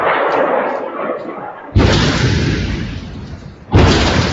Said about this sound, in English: a number of explosions were heard in the capital of Damascus Friday night as the country's air defenses fired